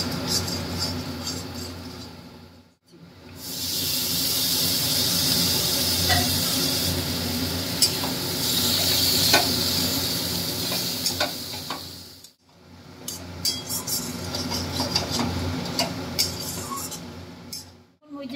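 Tomatoes go into hot spiced oil for a tomato katla fish curry, giving a steady close sizzle and frying hiss with occasional stirring scrapes, broken by two short pauses.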